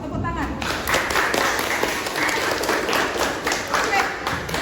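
Participants at a teacher-training session clap together in a lively, continuous burst that fills the room at moderate loudness, with chatter and voices mixed throughout.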